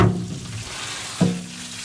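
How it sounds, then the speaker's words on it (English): Pork butts and brisket sizzle steadily and close by on a Shirley smoker, a crackling hiss with a brief louder burst partway through, and no one speaking. "You hear that sizzling sound in there?"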